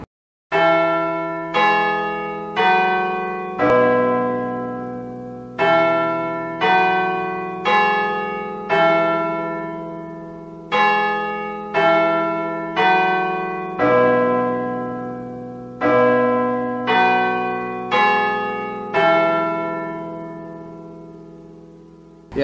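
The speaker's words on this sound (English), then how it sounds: "That's what the chimes sound like." Verdun carillon church bells ring out loud and close in repeated descending phrases of several tones each, every strike ringing on and decaying before the next run.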